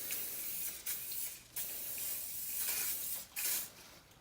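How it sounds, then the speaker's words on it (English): Cooking spray hisses onto the bottom of a 9x9 glass baking dish in several short bursts, each a sharp airy spray with brief pauses between, close and clear with no talking. "now I'm going to spray the bottom of a glass baking dish"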